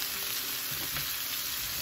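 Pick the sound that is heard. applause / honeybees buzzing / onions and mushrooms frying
onions and mushrooms frying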